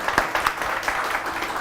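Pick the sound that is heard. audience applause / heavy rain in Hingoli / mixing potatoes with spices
audience applause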